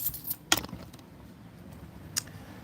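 Keys jangle in a gym setting: a couple of brief metallic clinks and rattles stand out, one near the start and another later, over quiet background noise with no talk.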